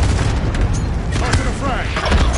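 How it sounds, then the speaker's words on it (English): Airstrike explosions in the video game Warzone, a dense rumbling barrage of booms and cracks that fills the whole moment loudly, with a voice talking over it. "Prepare for airstrike."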